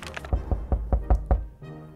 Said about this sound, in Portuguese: Bateram na porta.